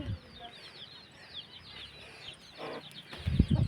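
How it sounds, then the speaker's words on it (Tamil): Chickens cluck and chirp softly nearby, with thin high calls throughout and a few louder thumps and rustles near the end. "கோழி"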